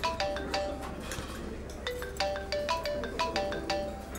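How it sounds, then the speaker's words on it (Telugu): A mobile phone ringtone chimes in repeated quick melodic bursts, a short pattern of bright electronic tones looping about every second and a half, fairly close and clear with no voices over it. "నేను నీకు రింగ్ ఇస్తా, ఫోన్ వచ్చినట్టు బయటికి వెళ్ళిపో"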